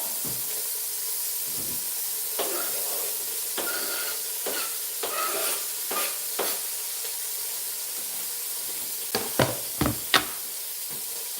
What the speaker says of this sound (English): We're gonna put onion and garlic into the pot.